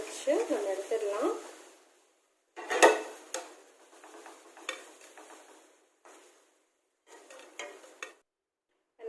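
Onion pakoda frying in hot oil in a pan, a soft sizzle with stirring and the clink of a utensil against the pan, coming in short bursts separated by brief pauses.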